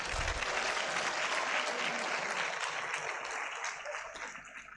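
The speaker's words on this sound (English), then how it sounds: "Another round of applause for yourselves, please." Audience applause fills a graduation congregation ceremony at the Cedi Conference Centre, dense steady clapping from a large crowd that holds loud throughout and thins slightly toward the end.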